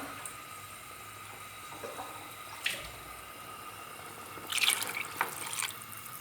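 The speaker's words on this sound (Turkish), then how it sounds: "bir su bardağı daha koydum." Water from a glass pours into a cooking pot of mung bean stew in a home kitchen, a faint running trickle with a brief louder splash near the end, no talking.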